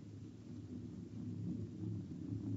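A low, faint rolling rumble of an approaching stampede in an old radio drama, continuous and distant-sounding, swelling slightly over time with no voices.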